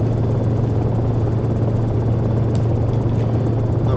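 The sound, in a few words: Cicare 8 helicopter hovering in X-Plane 11 video game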